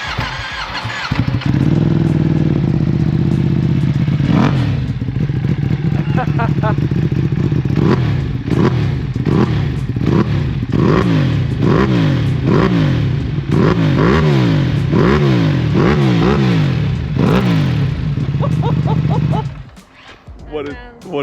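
A BMW M1000R motorcycle on its stock exhaust revs loudly and up close, with repeated sharp throttle blips rising and falling in quick succession over a steady idle before cutting off near the end.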